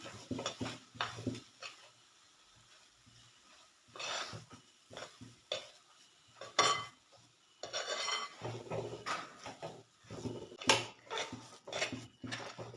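Nut rice ball ingredients are stirred and mixed in a vessel with a spoon, giving irregular bursts of scraping, clinking and knocking against the pot, separated by short quiet gaps.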